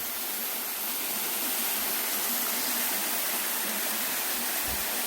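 Surak Falls pours in a steady, dense roar of falling water, close and unbroken throughout, with no voices over it.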